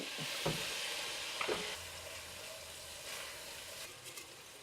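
Onion is tipped into a pan for a mushroom pie and fries with a soft, steady sizzle. A couple of stirring scrapes come early, and the whole sound is quiet and close.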